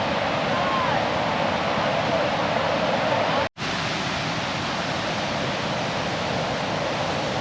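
The glacier-fed Enguri River rushes beside a trail on the floor of a U-shaped valley below the Shkhara glacier in Georgia. It makes a loud, steady, broadband roar that cuts out for a split second midway.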